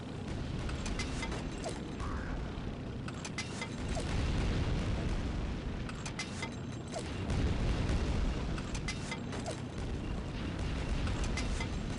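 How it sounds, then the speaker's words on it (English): Grenade explosions in Quake 2 land as a couple of dull, heavy booms, swelling around the middle and later on, amid clanking mechanical game noise and a constant busy wash. "Wait, what if I just start throwing grenades at this guy?"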